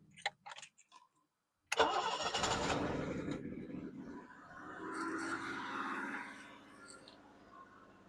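A 1985 BMW 745i E23, first started in 19 years, cranks and catches abruptly after a few clicks, then runs with a rough, uneven idle that swells and settles, with some talk nearby.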